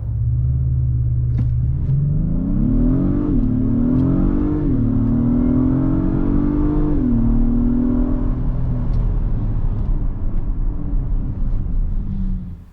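A 2022 Acura MDX Type-S SUV with a 3.0-liter turbo V6 accelerates hard, its loud engine note climbing through several gear changes before easing off and fading near the end.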